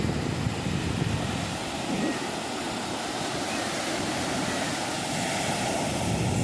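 Sea waves wash steadily on a beach as a broad, continuous roar of surf with no breaks.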